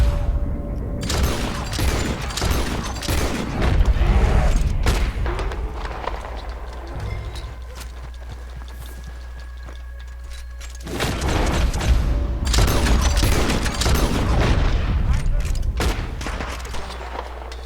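Gunfire aimed at a big bear in the video game Red Dead Redemption 2 rings out as rapid, loud cracks in two dense bursts separated by a quieter stretch, with character voices shouting amid the chaos.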